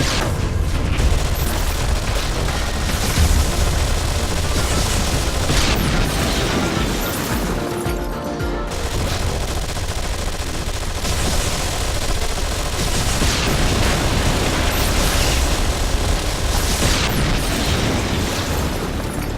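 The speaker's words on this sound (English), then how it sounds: "keep your squad firing" Continuous squad gunfire and explosions in the Anomaly 2 strategy game, a loud, unbroken barrage of booms and rapid bursts that pounds on without pause for the whole stretch.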